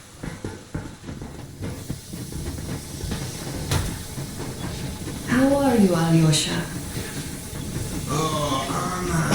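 A steam train pulls away in the video game Metro Exodus, with hissing steam, knocks and clanks, and the low rumble of wagons under people talking, then a long whistle-like tone rising over the noise.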